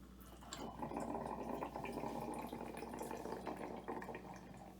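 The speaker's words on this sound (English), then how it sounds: "You can hear the water running back out." Water drains back out of open shower pipes in a lodge after the outside supply is shut off for winterizing, a steady continuous rush and trickle of moderate level with no talk.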